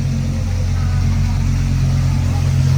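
Lamborghini engine on a racing track, a loud, steady low-pitched rumble close by that holds throughout without obvious revving.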